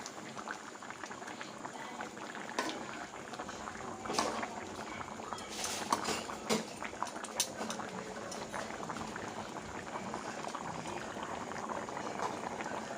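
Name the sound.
hilsa fish curry with potato and eggplant boiling in a pot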